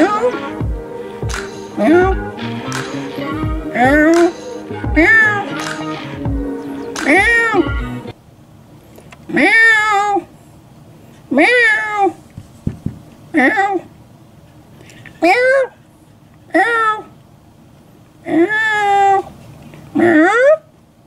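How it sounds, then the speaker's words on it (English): A cat in a backyard meows over and over, about a dozen clear, drawn-out calls with short pauses between them. The calls are close and loud, and the first few come quickly one after another. "I don't even know whose cat this is."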